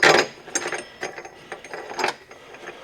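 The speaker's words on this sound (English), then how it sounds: "rear subframe bolts going in" Bolts being run in and tightened on the rear subframe of a BMW E46 in a workshop: a close burst of metallic ratcheting, then several shorter clicking bursts at irregular intervals, with no talk.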